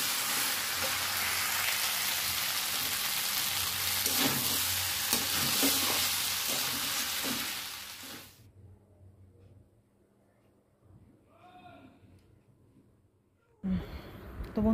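Pre-boiled pasta being stirred in a hot pan, a steady loud sizzle with spatula scrapes for several seconds that then cuts off, followed by quiet room sound and a couple of faint clinks.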